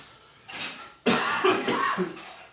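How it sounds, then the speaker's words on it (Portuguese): A person coughs twice, a short cough followed by a longer, harsher fit, close to the microphone. "Desculpem pela tosse"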